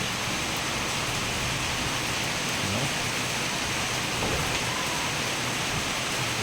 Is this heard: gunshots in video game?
no